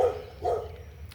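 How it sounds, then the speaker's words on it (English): Two muffled barks from a dog some distance away, spaced about half a second apart over low background rumble. "sorry about the dog barking."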